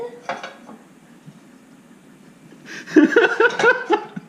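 Pots, pans and lids clatter and clank in a home kitchen in a loud burst of metallic knocks toward the end, after a brief earlier clink and a quieter stretch.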